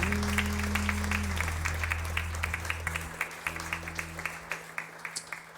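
A church congregation applauds during a worship service, steady clapping that thins into scattered, distinct claps over a fading low musical drone.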